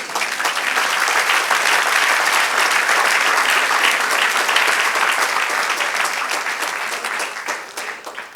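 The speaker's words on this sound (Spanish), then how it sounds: "Dale un aplauso al Señor." A church congregation breaks into loud, sustained applause, a dense wash of clapping that holds steady for several seconds before thinning slightly at the end.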